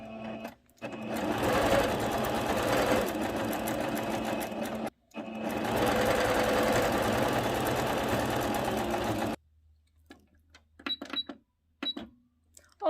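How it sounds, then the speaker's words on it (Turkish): A sewing machine stitching fabric for a child's dress runs in two long, loud continuous bursts of rapid mechanical chatter with a brief pause between, then stops, leaving quiet handling clicks and taps. "Bu şekilde dikiyorum."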